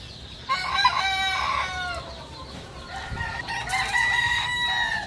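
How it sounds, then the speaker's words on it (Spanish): A rooster crows loudly and close by, with long drawn-out calls repeated over a faint outdoor background. "Aquí tenemos este gallo."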